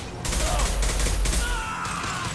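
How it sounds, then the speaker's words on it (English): A concussive shot fires in Mass Effect 2 amid a burst of booming gunfire and blasts, loud and close, with a voice briefly heard over the combat. "Firing concussive shot."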